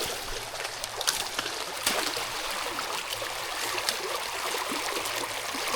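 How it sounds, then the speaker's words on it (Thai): Swollen floodwater rushes strongly down a small creek, a steady, dense broadband roar with no pauses, close and moderately loud, with occasional small splashes on top. "โอ้ น้ำใหญ่ครับ น้ำหลาก"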